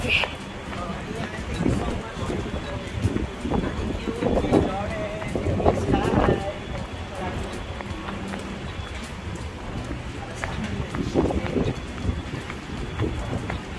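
Strong gusting typhoon wind roars steadily across the microphone, with rain-like hiss and faint voices talking underneath.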